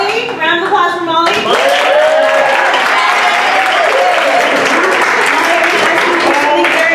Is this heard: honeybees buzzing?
no